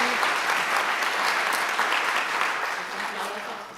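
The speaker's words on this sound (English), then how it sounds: "a round of applause for them" Sustained audience applause for a school music theater duet at a school music awards event, steady dense clapping from a crowd throughout, filling the hall without pause.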